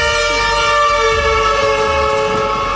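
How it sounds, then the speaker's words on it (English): Loud, continuous traffic roar from heavy trailers passing through busy Ohoro Junction in Benin City, with sustained horn-like tones ringing over the rumble throughout. "a lot of trailers pass through here and make the environment a little bit noisy"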